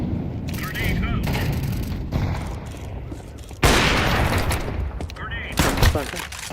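In a tactical shooter match, a sharp, loud grenade blast bursts out midway amid scattered gunfire, followed by further crackling shots and impacts as a voice talks over the action.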